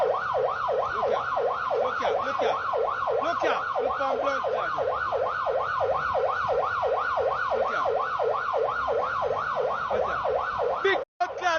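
An ambulance siren wails loud and close in a fast, steady rising-and-falling cycle that repeats continuously before cutting off briefly near the end.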